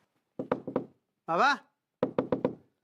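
Knocking on the door of a house: two quick bursts of four sharp raps each, close and loud, with a short voice call in between.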